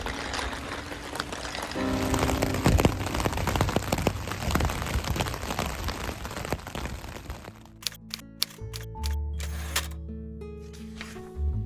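Heavy torrential rain from a thunderstorm patters densely and steadily on a tent close by, then gives way to sparser, sharper drips and knocks toward the end.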